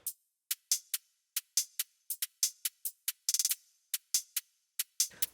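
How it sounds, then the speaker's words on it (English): Two layered hi-hat patterns from a dubstep track tick in crisp, bright hits, with an irregular, swung rhythm, a quick rolled flurry in the middle, and nothing else playing. "I also have this other second hi-hat pattern."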